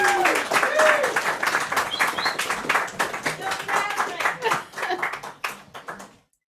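Applause for a poet at a reading, with a moderate crowd clapping in an uneven patter while voices talk and call out over it. The clapping thins out gradually and ends abruptly in silence.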